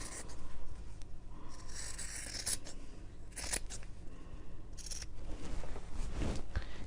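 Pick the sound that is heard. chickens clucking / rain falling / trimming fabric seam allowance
trimming fabric seam allowance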